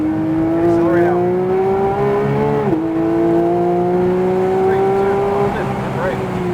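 A Porsche 992 GT3 accelerates hard on a race track, its engine note climbing in a steady loud howl with a brief dip at a gear change before rising again, under an instructor's voice.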